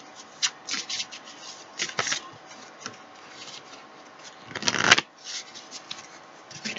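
Tarot cards are shuffled by hand in a run of soft riffling and rubbing bursts, close and fairly quiet, with a louder flurry near the end.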